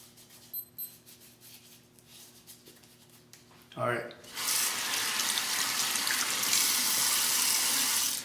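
Hot water gushes steadily from a bathroom tap into a sink during a wet shave, starting suddenly after some quiet handling noises and then running loud and constant.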